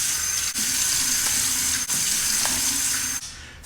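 A bathroom tap runs steadily into a sink before a shave, a continuous close splash of water with a few brief dips, and no voices.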